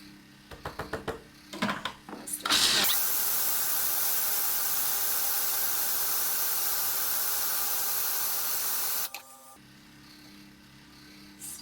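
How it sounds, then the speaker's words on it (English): A broken food processor grinds sprouted grain into a thick paste. A few knocks and scrapes come first, then a loud, steady whirring roar runs for about six seconds before it cuts off into quiet. "Turn that on. My food processor is a bit broken"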